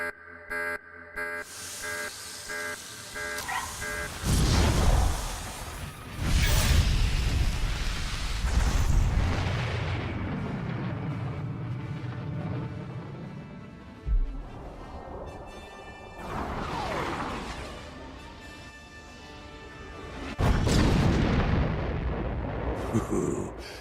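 An artillery strike in Star Wars: The Old Republic lands as several heavy, close explosions, each a sudden loud boom trailing into a long rumbling decay, with a final blast near the end.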